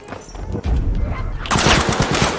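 Rapid automatic gunfire in Battlefield 5 rattles close and loud, with a denser, harsher burst of shots in the second half and faint game chatter underneath.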